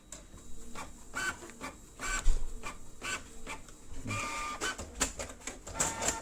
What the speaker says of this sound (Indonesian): Sekarang kita coba ngeprint 15 lembar